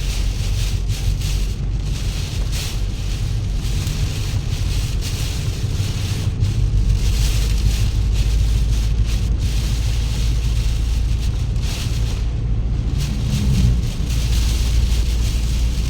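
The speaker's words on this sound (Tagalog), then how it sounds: "Ang lakas ng hangin." Strong wind from Tropical Depression Neneng roars continuously by the sea, buffeting the microphone with a heavy, rumbling rush that barely lets up.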